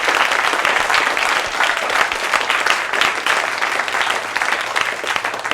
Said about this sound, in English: And can we just give Jessica an outstanding round of applause for her amazing talk?